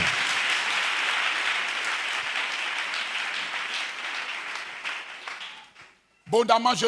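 A church congregation applauds, sustained loud clapping that gradually fades out, followed by a preacher speaking.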